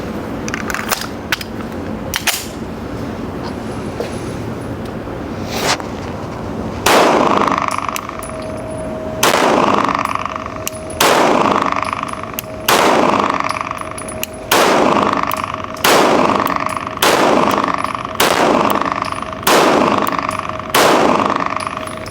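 CZ pistols fire at an outdoor range, the sharp reports coming one after another at a steady pace of roughly one every second or two, loud and close, with sparse clicks and handling noises in the quieter stretch before.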